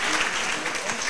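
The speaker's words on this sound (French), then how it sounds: "Sous vos applaudissements, s'il vous plaît." An audience at a Miss Level Up 2023 pageant applauds, giving a brief, dense burst of steady clapping with no voices over it.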